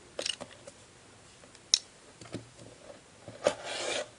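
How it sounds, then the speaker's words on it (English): A rotary cutter trims the sides of quilting fabric for half-rectangle triangles, several sharp scrapes and clicks among soft rubbing on a cutting mat, closing with a longer rasping cut. "I'm going to trim my first 2 sides."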